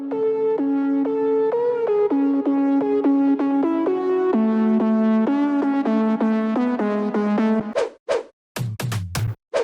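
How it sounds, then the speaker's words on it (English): A future house synth main lead passed through a low pass filter plays a steady run of sustained, harmonically rich notes stepping in pitch, loud and alone, before breaking into brief choppy stabs near the end. "And then we have the main lead with the low pass filter."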